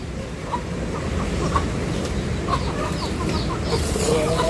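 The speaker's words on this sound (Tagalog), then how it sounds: "Ayan ang mga sisiw ko." Chicks clucking and peeping close by in a backyard coop, with soft scattered calls and a low rural background rumble throughout.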